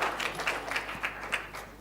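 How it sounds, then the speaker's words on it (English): Audience applause at a live panel event, a brief burst of scattered clapping from a moderately sized crowd. "Please give him a round of applause."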